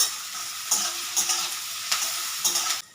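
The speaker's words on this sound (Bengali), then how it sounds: "আলু তো আস্তে আস্তে ভাজা হয়ে আসছে" Potatoes fry in a kadai with a steady soft sizzle, broken by several sharp stirring scrapes of a spatula at irregular intervals, no voices.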